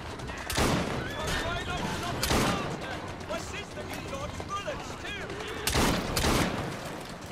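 Gunfire rings out in Assassin's Creed Syndicate, several sharp loud shots spaced a second or more apart over a busy background of game sounds, with talking running through the action.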